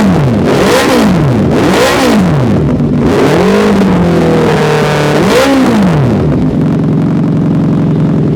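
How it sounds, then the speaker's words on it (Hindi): A car engine revs up and drops back about four times, its exhaust note rising and falling loudly and close, before it settles into a steady idle. "जिनको सुनना है एग्जॉस्ट नोट उनके लिए मैं एक बार थोड़ा सा रेव कर रहा हूँ, फुल रेव नहीं करूँगा"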